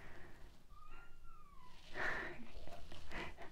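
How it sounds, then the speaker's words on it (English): A domestic cat meows indoors, two drawn-out rising-and-falling calls near the microphone, followed by a person talking quietly. "there's some meowing going on here"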